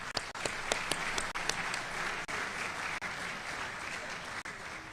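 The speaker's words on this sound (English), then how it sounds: "Let's give them all a round of applause." An audience at a televised congressional debate in Alabama gives a round of applause for the sponsors, dense steady clapping from a large crowd that carries on evenly for several seconds, with a few louder individual claps at the start.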